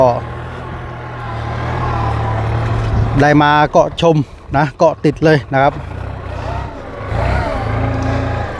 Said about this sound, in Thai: ชมช่วงทำงานของเจ้า รถแท็กเตอร์คันนี้นะครับผมว่าสมรรถนะการไถเป็นอย่างไรนะครับ